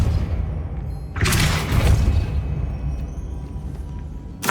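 A Depulso repelling-spell blast in Hogwarts Legacy, a sudden broadband burst that swells and lingers for about a second amid steady game ambience, ending with a second, sharper hit.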